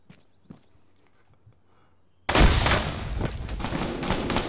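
A frag grenade goes off during close-quarters combat training: a near-silent stretch with faint scattered knocks, then a sudden loud burst about halfway through that rolls into a sustained roaring rumble until the end.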